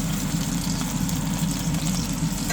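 Steady, dense sizzling of shrimp frying in a hot pan for fried rice, close and continuous with no pauses and no talking.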